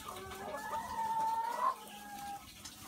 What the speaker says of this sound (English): Just one big hen house with a bunch of happy chickens.